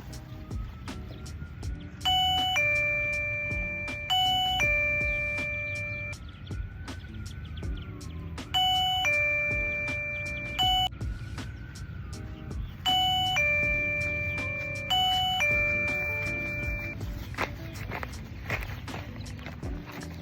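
A LETWESAF camping perimeter alarm receiver chimes in repeated two-tone doorbell-like ding-dong phrases, four bursts spaced a few seconds apart, loud and clear over faint outdoor background noise and light footsteps.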